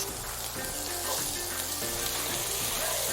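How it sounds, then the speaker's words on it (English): Onions sizzling in butter in a cast iron skillet on a stovetop, a dense, even crackling hiss at close range that holds steady throughout with no talk. "Then we're going to add our onions to the pan with the butter."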